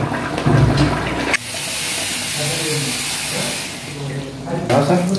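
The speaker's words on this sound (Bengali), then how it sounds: "এখন জল দেওয়া হয়ে গেছে।" Water is poured into a pot of cooking curry bhuna, making a loud rushing hiss that swells for a few seconds and then fades back into background clatter.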